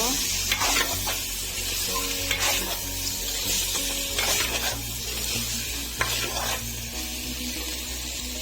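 Broiler chicken pieces sizzle in a frying pan while being stirred, with a steady close crackle, rhythmic scraping strokes and a low hum underneath.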